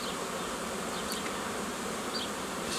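Honey bees hum at an apiary hive, a steady close buzzing drone with occasional brief higher whines as individual bees pass, no voices.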